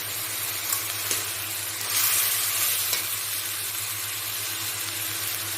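Tomato and green chili paste fries in a pan for crab curry, giving a steady loud sizzle with occasional stirring scrapes and brief bursts of hiss.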